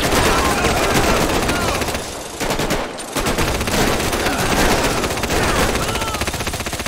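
Gunfire in the video game GTA V during a biker gang attack, sustained rapid automatic bursts that fill most of the span, briefly pausing in the middle before resuming loud and close.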